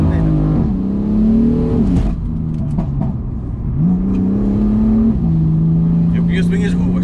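A BMW F80 M3 tuned to 500 hp with air suspension, traction control off, revs and accelerates loudly, its engine note climbing and dropping through gear changes over several seconds with a voice heard over it.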